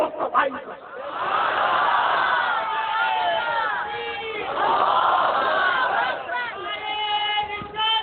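A large crowd at a religious gathering loudly chants slogans in unison, a continuous roaring wall of many voices rising and falling in repeated waves for the whole stretch.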